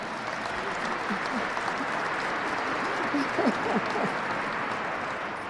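Audience applause fills the Capitol rotunda at a Congressional Gold Medal ceremony, a steady dense wash of many hands clapping that holds even throughout, with faint voices murmuring beneath it.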